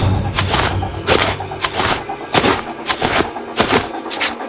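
Cartoon gunshots from a hunter going after animals: a rapid volley of sharp, loud bangs with booming low thumps, repeating in irregular bursts across the whole stretch, without any voices.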